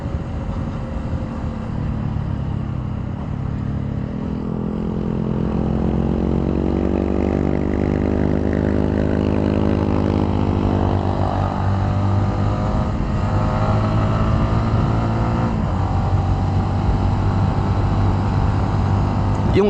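A Honda WinnerX150 underbone motorcycle engine revs steadily while climbing uphill, its rising whine sustained and loud across the ride with wind noise.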